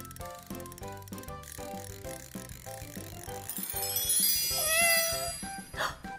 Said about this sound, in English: That was most definitely a cat